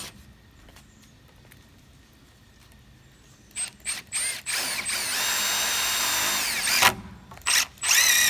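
A power drill drives screws while a back porch is built and a joist is fixed to the house: a quiet stretch, then close, loud whirring bursts that turn into one long sustained run with short stops near the end.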